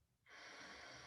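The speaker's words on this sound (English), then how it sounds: "Breathing in," A single slow inhale drawn in through one nostril while the other is blocked, part of a qigong breathing exercise; a soft, steady airy hiss starting abruptly and continuing, close and quiet.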